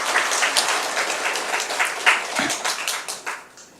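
A church congregation applauds in welcome, a steady, moderately loud patter of many hands with a few sharper individual claps standing out, tapering off slightly at the end.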